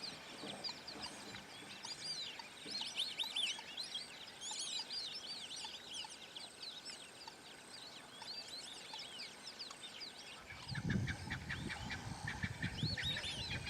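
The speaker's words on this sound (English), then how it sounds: "There's a whole family of Egyptian geese." Geese call repeatedly in the distance with harsh, overlapping honks, joined near the end by louder, lower honking close by, over faint outdoor background.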